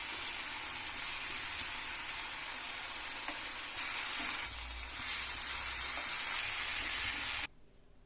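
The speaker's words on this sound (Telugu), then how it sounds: "ఆయిల్లో వేయించుకోవాలి. అలా వేయించుకోవాలి. రెండు పక్కల బాగా త్వరగా వేయించుకోవాలి." Steady, close sizzling of pieces frying in hot oil for a fishless fish fry, a dense crackling hiss that continues without a break for about seven seconds, then cuts off abruptly.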